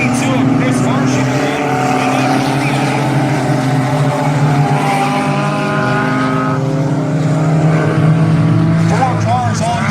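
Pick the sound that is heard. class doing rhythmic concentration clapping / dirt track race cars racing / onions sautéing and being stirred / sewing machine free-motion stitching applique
dirt track race cars racing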